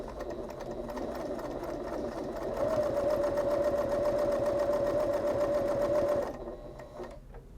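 A Bernette B08 sewing machine stitches in a close, steady mechanical whir that speeds up partway through with a faint whine, runs for about six seconds, then winds down.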